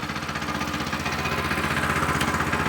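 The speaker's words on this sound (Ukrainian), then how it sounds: "Стоп двигуна, оберти не чіпаю, нейтралічку перевірив, закриваю заслоночку, заводжу" A walk-behind tractor engine runs at a steady idle, a loud, close, rhythmic chugging with no talk over it.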